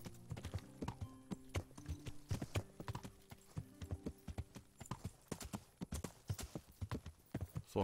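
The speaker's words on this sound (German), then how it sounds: "Macht auch gerade so ein bisschen Spaß, einfach das Reiten." Horse hoofbeats in the video game Kingdom Come: Deliverance, a steady rhythmic clip-clop of a ridden horse, close and clear throughout with light tack jingles and no talk over it.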